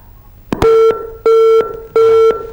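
Three clear, loud tones from a phone line after a call is cut off, each lasting about a quarter to a third of a second, evenly spaced and heard alone with no talk over them.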